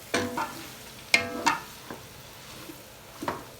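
A spoon knocks and scrapes against a pot while beef papaitan ingredients are stirred, giving a few sharp clinks spread over several seconds against a quiet background.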